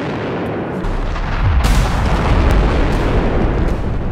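Bomb explosions pound in a 2020 Korean film, swelling into a loud, deep, rolling boom about halfway through that keeps rumbling to the end, with no voices.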